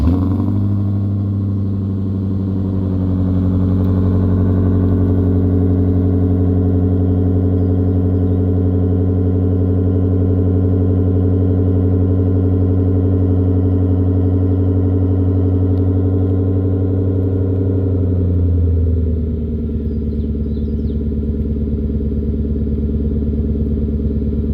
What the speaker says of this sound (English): Figure I'd give you guys like a cold start and a couple revs just to put in a perspective of what it sounds like